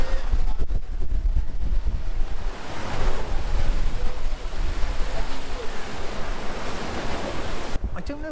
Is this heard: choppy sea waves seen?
yes